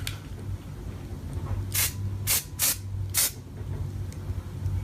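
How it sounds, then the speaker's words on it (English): Four quick hissing bursts of spray foundation misted from a can onto the face, close and fairly loud over a low steady hum. "I'm gonna do one quick little spray."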